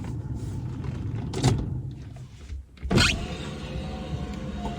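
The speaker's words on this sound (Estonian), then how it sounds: "Aken käib alla." A Rover 75 convertible's electric window motor hums as the glass slides down, with a couple of sharper clunks over a steady low rumble.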